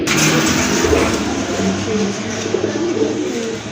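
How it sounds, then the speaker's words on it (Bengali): A pair of pigeons gives soft, repeated throaty coos close by, over a steady low background rumble. "খুবই সুন্দর এক জোড়া কবুতর"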